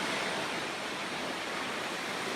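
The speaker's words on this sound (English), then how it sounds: "You can see the water kind of falling off the edges there." Piney Falls in Tennessee pours over a rock edge, a steady broadband rush of falling water heard close and alone, without pause.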